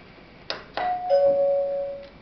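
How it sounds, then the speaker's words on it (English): A table service call button chimes a two-tone ding-dong after soft clicks of the button being pressed, clear and close in a quiet room. "after we hear ding dong, the register successfully"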